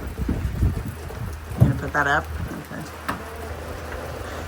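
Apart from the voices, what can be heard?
heavy rain pouring down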